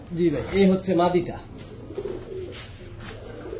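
Pakistani pigeons at a market coo softly in low, rolling tones while someone talks nearby, his voice louder than the birds.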